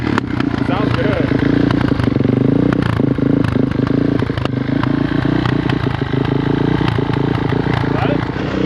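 A Suzuki DRZ400s motorcycle engine revs up and down close by, its throbbing note rising and falling over a steady rattling idle throughout.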